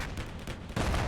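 Heavy automatic fire from a .50 cal machine gun in the war game Combat Mission Black Sea, a dense continuous rattle that swells louder partway through, with no talk.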